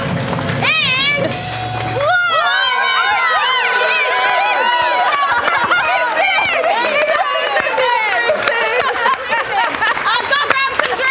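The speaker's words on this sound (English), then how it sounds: "Let's get a round of applause going." Crowd cheering and applause at a Showdown competition event, loud whoops, shouts and high calls layered over clapping, with a brief tonal blast at the start and animated voices throughout.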